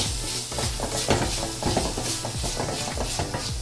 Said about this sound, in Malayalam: തക്കാളി ചേർത്ത് നന്നായിട്ട് വഴറ്റണം